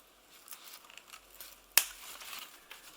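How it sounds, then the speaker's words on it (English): Scissors trim a peace lily houseplant: soft leaf rustling with one sharp, crisp snip standing out close by. "I'm going to go in with the scissors"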